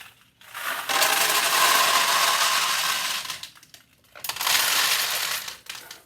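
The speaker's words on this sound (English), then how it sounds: "add balls there and there" Steel balls poured into a Nishijin Model A single-shot pachinko machine rattle and cascade in two loud bursts, a long one followed by a shorter one after a brief pause, with no talking.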